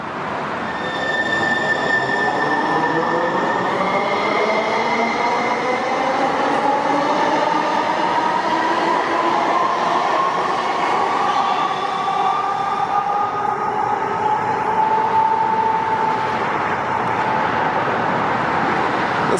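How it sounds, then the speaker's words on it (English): A Sound Transit light rail train runs on the Lynnwood Extension, climbing a grade with a long, loud electric motor whine and screeching, squealing wheels that rise and fall in pitch over steady rolling rumble, with no voices. "Let's take a look at how the train traverses this grade here."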